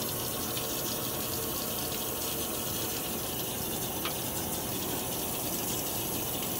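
Water runs steadily from a bathroom tap for a razor blade during a face shave, a constant, close, full gushing stream with no pauses.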